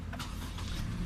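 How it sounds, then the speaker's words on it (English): A 2017 Lexus NX200t's 2-liter turbocharged 4-cylinder engine turns over and settles into a low, steady rumble close by, with no voices. "what you're hearing there is a 2-liter turbocharged 4-cylinder"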